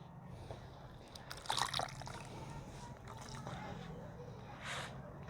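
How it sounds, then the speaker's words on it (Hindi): Wet cocopeat is squeezed by hand and the water poured into a bucket, heard as faint squishing and soft trickling with a few brief splashes, quiet and close. "आप इस तरीके से थोड़ा सा पानी को इसमें से निचोड़ लीजिए और ये दूसरे बकेट में इस तरीके से डाल लीजिए।"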